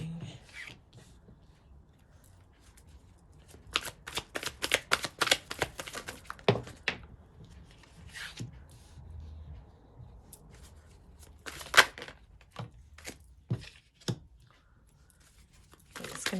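Tarot cards are shuffled in crisp bursts of riffling and slapping, coming in irregular clusters separated by short pauses, close and fairly quiet, with no voices.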